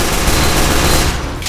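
Rapid, dense gunfire from a Team Fortress 2 firefight, a loud continuous barrage of automatic shots that holds steady for the whole moment before cutting off abruptly.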